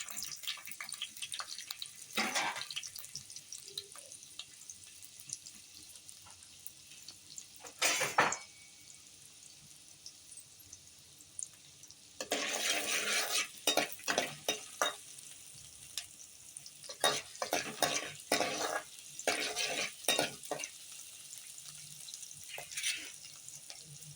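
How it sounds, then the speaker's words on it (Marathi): Chopped onion fries in two spoons of hot oil as a tempering for Malvani-style kadhi, with soft, close sizzling broken by louder bursts of hissing and stirring. "तेल टाकलंय दोन चमचे जास्त नाही फोडणीला हा कांदा टाकते फोडणीसाठी"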